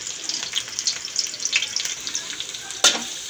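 Chopped onion and garlic sautéing in a hot pan for chicken afritada, a steady bright sizzle with a few stirring scrapes and one sharper crackle near the end, close and fairly loud with no voices.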